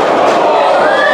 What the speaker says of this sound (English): What a clothesline